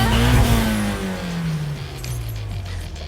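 A car engine in the video game Need for Speed revs high then winds down in pitch, a loud close roar tapering into a steady drone.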